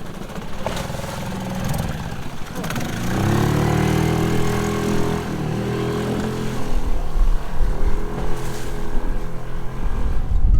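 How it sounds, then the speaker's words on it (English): A motorboat passes on windy water in the Bahamas, its engine drone building and fading as it goes by at moderate distance, with wind noise throughout. "Just boat passed by."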